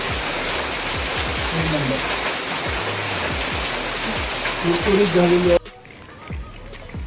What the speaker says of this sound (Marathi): पाऊस पण पडतोय चहा गरम